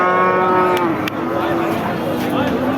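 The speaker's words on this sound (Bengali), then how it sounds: "পাকিস্তানি জাতের গরুটা দেখতে পাচ্ছেন" At a cattle market, a large Pakistani-breed cow lets out a long, loud, close moo that runs through most of the moment, with faint crowd noise in the background.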